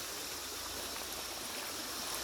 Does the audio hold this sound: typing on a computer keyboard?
no